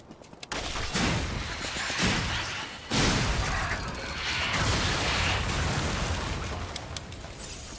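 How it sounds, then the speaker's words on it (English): A video game explosion in Lies of P erupts with a sustained roaring blast. Crackling rumble fills the space for several seconds, loud and dense, with a second surge midway and no voice over it. "The explosion knocked me down and I had invincibility frames."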